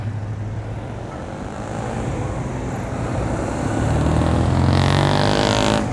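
A Citroën 2CV's exhaust note rumbles steadily at a large 2CV gathering in Samobor, Croatia, against a background of traffic noise from other passing cars, growing louder as it nears.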